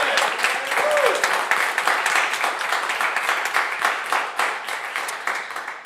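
Studio audience applause for a musician during a live radio show, a full sustained round of clapping with a brief voice near the start, gradually tapering.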